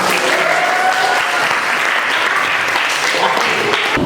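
Students in a classroom lesson break into loud, continuous clapping for the winning group, a thick, steady roar of hands close by, with faint voices mixed underneath.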